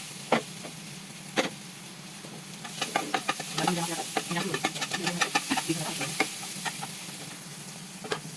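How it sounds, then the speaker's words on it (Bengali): Pumpkin seeds coated with salt, turmeric and chili powder fry gently in oil on a hot griddle over a low gas flame, giving a steady sizzle with scattered crackles and pops that cluster in the middle stretch. "আস্তে আস্তে বীজটি ভেজে নিচ্ছি।"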